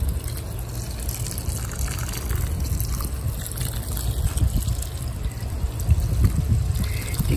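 Water pours and gushes steadily over soil around freshly planted dahlias, a continuous close rushing wash with no pauses, louder and rougher toward the end.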